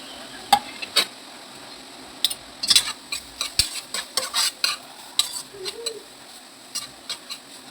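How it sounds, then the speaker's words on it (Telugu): Grated carrot fries in ghee in a pan while a utensil stirs and scrapes it, making irregular clinks and scraping strokes over a faint, steady sizzle. "పచ్చి వాసన పోయేటట్టు బాగా మనం ఫ్రై చేసుకోవాలి ఇది నెయ్యిలో."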